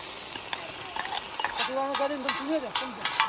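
Ground onion paste frying in a pan while being stirred, a steady close sizzle with scraping spoon strokes and a few squeaky pulls across the pan surface, no one speaking.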